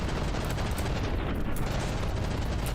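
CRAM cannons firing shells in a From the Depths battle, a heavy, steady wall of rapid booming shots and explosions rolling without pause, loud and close, with no voices.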